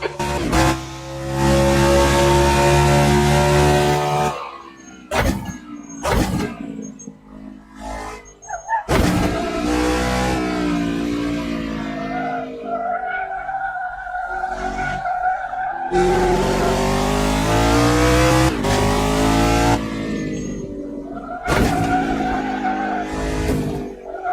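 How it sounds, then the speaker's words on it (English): Race car in a racing video game, tires locking up and skidding with loud sustained squeals over a roaring engine, rising and falling through repeated braking moments. "Locking up your right front tire a lot"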